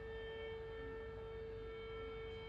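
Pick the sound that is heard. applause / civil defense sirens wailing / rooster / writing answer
civil defense sirens wailing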